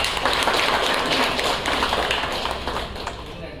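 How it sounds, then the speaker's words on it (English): An audience at a school orientation program applauds, a dense, even patter of many hands clapping that stays steady at moderate volume and then gradually eases off. "Big round of applause."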